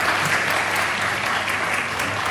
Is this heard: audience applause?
yes